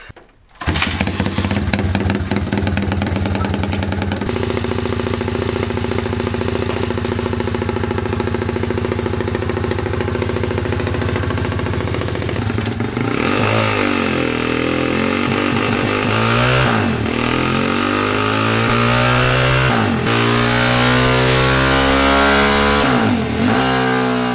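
A CW140 pit bike engine on a dyno starts with a sharp catch, then idles loud and steady while warming up, and later revs up and down repeatedly in rising and falling surges, with no talk.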